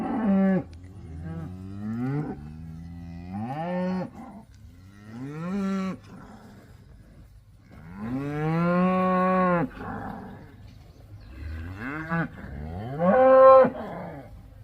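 Several cows on a farm mooing back and forth, long drawn-out calls overlapping and answering one another at close range, some louder and nearer than others, with no talking.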